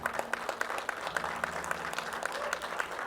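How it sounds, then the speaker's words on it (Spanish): A church congregation applauds during a sermon, steady rapid clapping from a crowd with a faint voice beneath, moderately distant and continuous for a few seconds. "Voy a dar un fuerte aplauso a Rey de Reyes."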